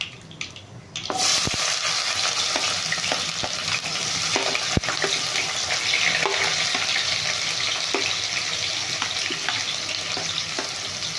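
Onions frying in a pan for egg masala curry give a loud, steady sizzle after a quiet opening, with occasional clicks and knocks of a spoon against the pan.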